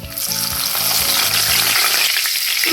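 Curry leaves crackle and sizzle loudly in hot oil in a pan, a steady, close frying hiss with bursts of spitting, no voices.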